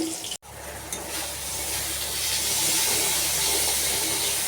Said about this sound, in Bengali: নুন হলুদ মাখিয়ে মাছ আমি ছেড়ে দিয়েছি, মাছ ভাজা হচ্ছে